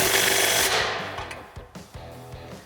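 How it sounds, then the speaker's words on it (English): A 3/8 impact gun with a 15 millimeter socket tightens a muffler clamp on a 2021-2023 Bronco cat-back exhaust, rattling in a rapid burst that fades, then a few short hammering pulses follow, close up. "I'm going to take my 15 millimeter, my 3/8 gun, tighten this one up"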